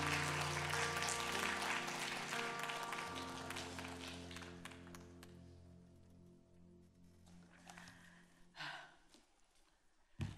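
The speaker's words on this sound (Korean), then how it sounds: "나오실 때 환영과 감사의 박수로" A church congregation at a Thursday women's worship service applauds to welcome a guest pastor. The clapping starts full and then thins out over sustained instrumental music, with no talking.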